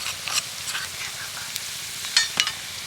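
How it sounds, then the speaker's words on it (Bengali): Chopped onion fries with ginger, garlic and green chilli, a soft background sizzle punctuated by several quick spatula scrapes and taps against the pan, close by and without voices. "পেঁয়াজটাকে একটু সোনালি করে ভেজে নেব এবার পেঁয়াজের মধ্যে দিয়ে দেবো আদা রসুন আর কাঁচা লঙ্কা কুচি"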